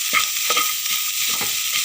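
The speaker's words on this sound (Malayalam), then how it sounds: "ഇനി നമുക്ക് വേവിച്ച് വെച്ചിരിക്കുന്ന കക്കയിറച്ചി ഇട്ട് കൊടുക്കാം. എന്നിട്ട് ശരിക്കിത് ഫ്രൈ ചെയ്തെടുക്കണം." Cooked clam meat frying in oil in a pan, a bright continuous sizzle with rhythmic stirring scrapes every half second or so, close and loud, no voices.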